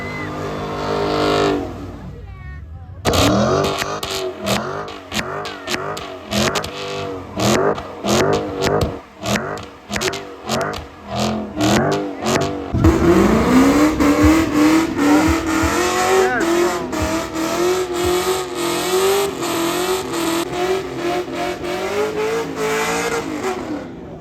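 A car does a burnout at a legal pit, spinning its tires. The engine revs hard in repeated bursts, then holds a loud sustained roar with tire squeal, and people shout over it.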